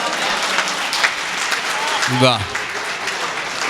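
Audience clapping at a live Urdu poetry mushaira in Vidisha, a steady wash of applause from a large crowd under an appreciative voice, with a brief louder swell near the end.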